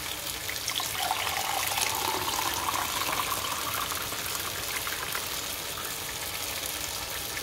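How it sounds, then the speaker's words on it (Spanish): Coffee being poured into a cup, a continuous close gush of liquid whose tone rises slightly as the cup fills, with no talking. "Vamos a servir nuestro cafecito."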